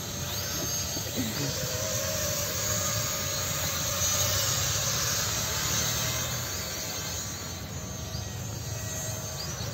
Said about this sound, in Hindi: गाइस जो हमारा ड्रोन है वो स्मूथली यहाँ पर ज़मीन पे आ चुका है